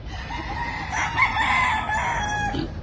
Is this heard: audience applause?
no